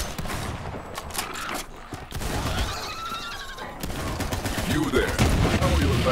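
Dahl assault rifle firing in Borderlands 3, rapid bursts of gunfire in close, dense volleys that continue through the stretch with only a brief pause.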